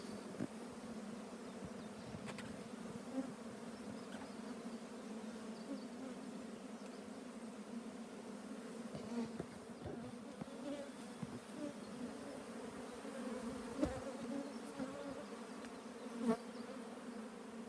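Honeybees in an opened colony hive drone steadily and softly, a dense continuous hum of many insects with scattered small knocks and crawling sounds. No one speaks.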